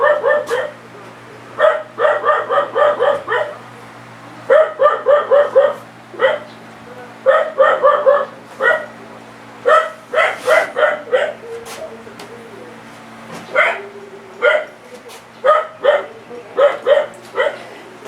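Several dogs bark in quick bursts of two to five woofs, loud and close, separated by short pauses over a low steady hum, with a few higher yips mixed in.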